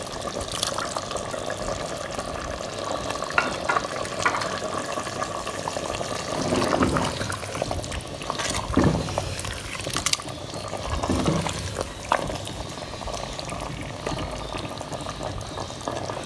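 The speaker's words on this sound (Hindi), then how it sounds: "अब हम इसको भूनेंगे" Chicken handi sizzling and bubbling steadily in a pot over low heat, a continuous moderate hiss with occasional louder spits and pops, no talking.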